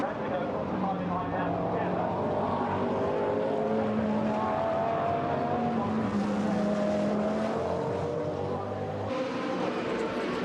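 GT1 race cars rush past on the start-finish straight at Donington during a qualifying race, a steady engine roar rising and falling in pitch as they pass, with commentary running over it throughout.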